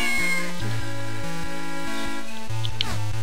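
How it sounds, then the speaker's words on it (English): Cat meowing in The Legend of Zelda: The Minish Cap, heard as game-style voice blips over looping background music and clearly audible for a few seconds with no talking. "You can fuse with a cat. And it can talk."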